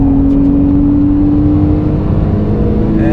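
Porsche 911 with PDK gearbox at full throttle on a race track, a loud, continuous engine whine with a steady tone that climbs slightly near the end.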